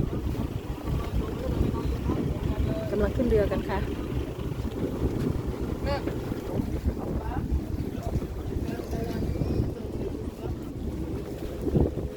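A boat crosses the sea off Rayong toward Koh Samet, with a low engine rumble, heavy wind gusting across the microphone and water washing past, while voices speak intermittently over the noise.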